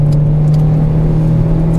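Renault Clio 3 RS naturally aspirated engine revving, a steady, loud, low droning hum with a constant pitch held for under two seconds, with no voices over it.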